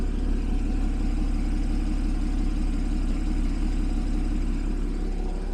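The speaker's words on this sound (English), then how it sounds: "Let's listen to the engine idle for 1 second." A Porsche 981 Boxster with PDK idles steadily up close, a low, even rumble with a rapid pulsing throb and no other sounds.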